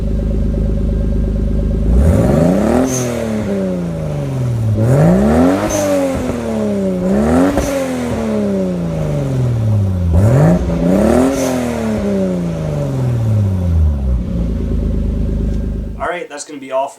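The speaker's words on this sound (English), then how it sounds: "I'll start the car and give it a little rev" A 1994 Toyota Supra engine fires up, then revs repeatedly, climbing and falling in three or four loud, close sweeps before settling back to idle and cutting off.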